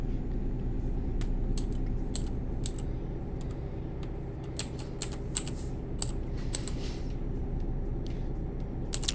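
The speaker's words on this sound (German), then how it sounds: "Falls ihr das ab und zu mal so ein bisschen klickern hören solltet, ist meine mechanische Tastatur" Sharp, irregular clicks of a mechanical keyboard sound close by over a steady low engine drone from Euro Truck Simulator 2, the keystrokes coming in scattered bursts of single taps.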